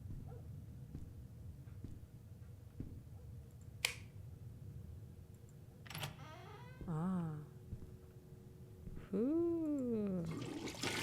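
A toilet flushing in the horror game Witch's Doll, a rushing wash of water near the end, preceded by sharp clicks and some wavering tonal sounds, with no talking.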